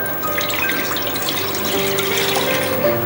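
About three cups of water pour into a heavy cooking pot, a steady, close splashing stream that runs unbroken for a few seconds.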